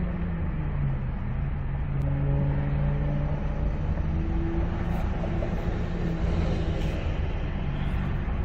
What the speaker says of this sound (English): I'm holding the brake and the car is running.